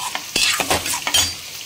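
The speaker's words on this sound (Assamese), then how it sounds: "অকণমান তেলত খালি নহৰু দিওঁ গোটাকৈ" Whole garlic cloves fry in a little oil in a pan, giving a steady loud sizzle broken by several sharp scraping stirs, close and with no voices.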